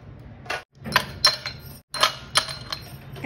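Ice cubes drop into a mocktail glass in a quick series of bright clinks and knocks, about five or six distinct hits spaced irregularly, heard up close with no talking.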